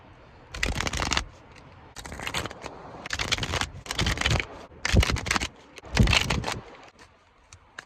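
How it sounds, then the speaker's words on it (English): A deck of cards is shuffled close up, six quick riffling bursts separated by short pauses, crisp and rustling with no voices. "Let us shuffle your deck"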